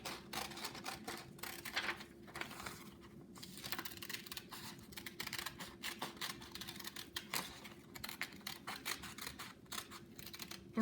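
Scissors snip through paper sheets in a quiet room, a rapid series of small crisp cuts and rustles repeating irregularly, close and faint, with no voices.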